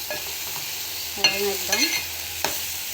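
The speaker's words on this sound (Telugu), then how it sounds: "ఉప్పు కారం పసుపు టమాటా ఇవన్నీ వేసుకుని వేయించుకోవాలి ములక్కాయలు కూడా వేసుకుని మగ్గనివ్వాలి" Tomato, drumsticks, salt, chilli and turmeric frying for a prawn curry, with a steady sizzle under a few scraping stirs and clinks of a spoon against the pan.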